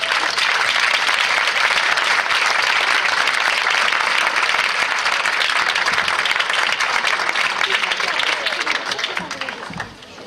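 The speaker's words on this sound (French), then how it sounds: "Sous vos applaudissements, s'il vous plaît." Long, loud applause from a festival audience honoring the cast of a French television crime series at an anniversary event in Luchon, many hands clapping steadily with crowd voices mixed in, tapering off near the end.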